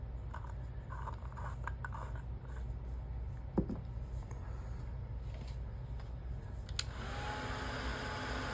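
A hair dryer blows steadily on wet watercolor paint, a constant close whirring drone with a couple of faint clicks and a brief shift in tone near the end; no one speaks.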